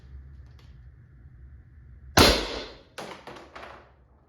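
An Umarex HDP 50 air pistol fires a single sharp, close shot, followed by a few quieter clicks and taps, against a low background hum.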